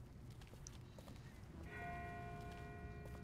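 A distant bell rings in The Walking Dead game near a river, a faint sustained metallic tone entering midway and lingering over quiet ambient background, with no talk.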